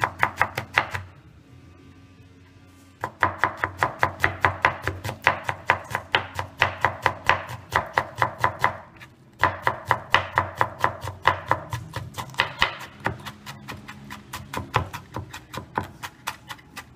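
Knife chopping onion and bell pepper finely on a board for a refrito, a fast, steady run of crisp close taps, pausing briefly twice before resuming at the same brisk rhythm.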